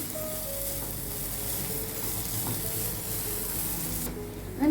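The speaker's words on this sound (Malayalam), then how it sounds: "ഇടയ്ക്കൊന്ന് ഓപ്പൺ ചെയ്തിട്ട് ഇതേപോലെ ഒന്ന് ഇളക്കി കൊടുക്കാം" Beetroot cutlet mixture cooks in a pan over a low flame, giving a steady, close sizzle with soft scraping as it is stirred now and then, ending in a louder burst.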